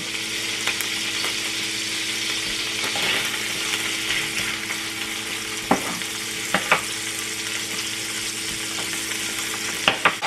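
Garlic and onion frying in a hot pan for Chinese-style rice, with a steady, dense sizzle throughout and a few sharp pops and spatters near the end, no voices.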